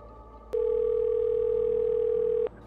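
A single steady telephone dial tone heard while calling 911, starting abruptly, holding evenly for about two seconds, then cutting off, clear and close with no voices.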